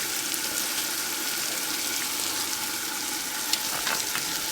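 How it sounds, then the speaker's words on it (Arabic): Spices and tomato paste sizzling in a pan with onion, paprika and turmeric, a loud steady fry close up with faint stirring scrapes, no talk. "أقلب الكشنة كلها مع بعض وأخليها تتسبك جيدا"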